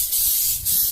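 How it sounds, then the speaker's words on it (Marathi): An insect-repellent aerosol sprayed onto the tail of a goat that has recently given birth gives two close, loud hissing bursts separated by a brief pause, with no talking. "पण हा स्प्रे असा थोडा हलवायचा, चिलटण ते आहेत तर आपण हा स्प्रे मारणार आहोत"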